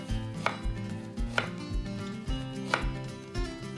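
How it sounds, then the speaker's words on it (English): Knife thinly slicing a peeled vegetable on a cutting board, a steady run of crisp chops, close and clear, no talk. "then what we'll do is cut it nice and thin"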